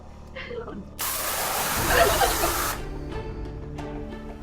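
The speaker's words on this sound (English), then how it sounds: "atomize liquid cream and spray it into subject's mouth." A device atomizes liquid cream and sprays it toward a mouth, producing a loud, steady broadband hiss of about two seconds that starts abruptly and cuts off, with faint talk and light clatter around it.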